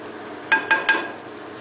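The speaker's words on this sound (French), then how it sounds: "je remue un petit peu" Spoon stirring tomato sauce in a pan for a Moroccan kafta tagine, three quick scraping strokes close by over a low steady sizzle.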